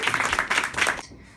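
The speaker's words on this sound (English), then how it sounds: "Give her applause." A brief burst of audience applause, moderately loud and fairly close, lasting about a second before cutting off into quiet.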